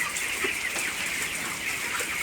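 A dense flock of 25-day-old chickens in an open house of about 3000 birds clucks and chirps continuously, a steady overlapping chorus with no pauses.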